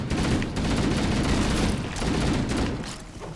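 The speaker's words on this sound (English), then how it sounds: "where the gun decides it wants to fire" Loud, dense gunfire from the video game Halo: Combat Evolved, fired from the hip as rapid overlapping bursts that keep going without a break.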